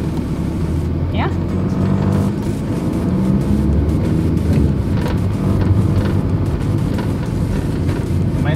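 A manual-transmission car drives steadily in second gear, its engine a continuous low drone with road and wind noise, while people talk inside the cabin.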